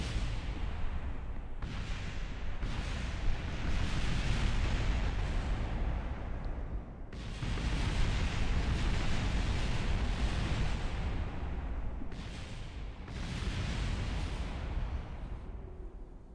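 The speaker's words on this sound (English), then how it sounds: "Oh, that's a lot of explosions." Rumbling, roaring explosions in Kerbal Space Program, in sustained bursts, several long blasts separated by brief lulls, loud and dense throughout with no talking.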